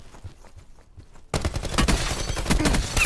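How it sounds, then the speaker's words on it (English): Assault rifle gunfire in the Black Ops 4 multiplayer shooter, a quiet stretch of faint footfalls suddenly giving way to loud, sustained rapid bursts and crackling shots that fill the rest of the moment. "Not much recoil on that assault rifle."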